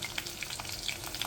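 Green chillies dropped into hot oil, a brief burst of close, crackling sizzle with sharp popping spatters.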